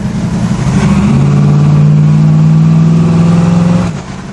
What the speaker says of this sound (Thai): เดี๋ยวผมลองเร่งรอบนะ